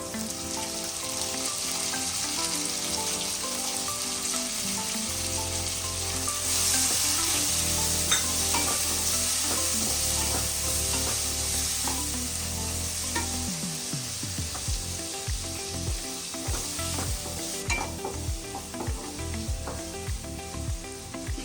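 Chopped tomato goes into a pan of frying mushroom masala, giving a loud, steady sizzle with stirring scrapes and clinks in the latter half, and no talking.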